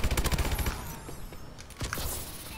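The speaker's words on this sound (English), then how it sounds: "I have to go with the machine gun now." Rapid machine gun bursts in Call of Duty: Advanced Warfare, loud and close, with rhythmic rattling shots fading into a busier mix of distant fire and effects.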